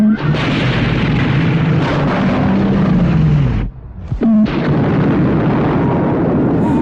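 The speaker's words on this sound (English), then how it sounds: "the mortar makes probably one of the funniest sounds in the entire film" A mortar fires in the post-apocalyptic film Wheels of Fire, a loud, sustained booming blast with a brief drop in the middle before the roar resumes.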